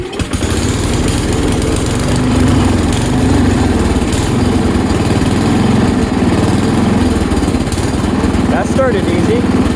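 A 1969 Sears Suburban 12 garden tractor's small engine runs loudly and continuously after starting, a busy mechanical drone with slight wavering in speed and a brief squeak near the end.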